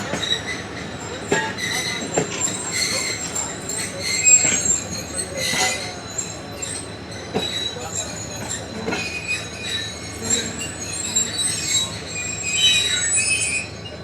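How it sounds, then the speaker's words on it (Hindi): A train pulls out of Merapur railway station with its wheels squealing in loud, sustained metallic whines that rise and fade over a low rolling rumble, and a few brief clunks from the cars. "मेरापुर रेलवे स्टेशन से अब हो रही है डिपार्ट हमारी ट्रेन।"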